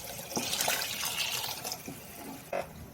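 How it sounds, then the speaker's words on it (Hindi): Half a litre of water is poured into a pot of mutton khichda, a soft, faint splashing and trickling that runs for a few seconds and ends in a brief louder splash. "आधा लीटर पानी डालकर इसको अच्छा मिक्स कर लेंगे।"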